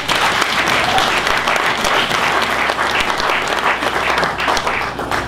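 A church congregation claps loudly and steadily in a sustained, dense round of applause that fills the room from start to finish.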